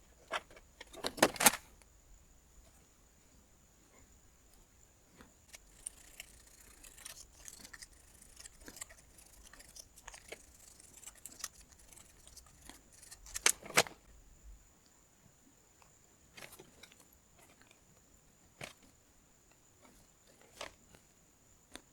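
Thin 0.5mm styrene sheet being snipped and trimmed for a vintage Action Force RoboSkull toy repair, with quiet close clicks and cuts scattered over a faint steady hiss and a few sharper snips.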